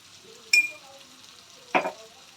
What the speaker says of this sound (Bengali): এবার পেঁয়াজটা আমি গোল্ডেন ব্রাউন হওয়া পর্যন্ত ভেজে নেব